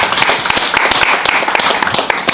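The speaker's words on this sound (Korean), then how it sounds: "오늘 다 이 예배 가운데 딱 나와서 우리 박수로 한번 격려하겠습니다." A church congregation claps together during a worship service, a dense burst of close, sharp handclaps with no talk over it.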